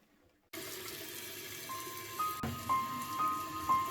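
Water runs from a tap into a sink during washing up, starting suddenly and then flowing steadily and close by, with a few light splashes and drips. No one speaks.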